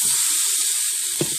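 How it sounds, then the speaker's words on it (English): Seasoned chicken sizzles steadily in a very hot pan, a loud continuous frying hiss with a brief soft bump partway through. "You hear it sizzling."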